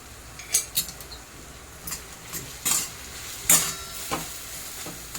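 Chilli powder, turmeric and ginger-garlic paste for pav bhaji sauté in a pan, a soft sizzle under repeated scraping and clinking strokes of a stirring spoon, close and fairly quiet.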